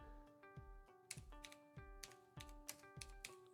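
Fingers type on a computer keyboard, a quick rhythmic series of crisp clicks and clacks close by, with a steady soft background hum and no talking.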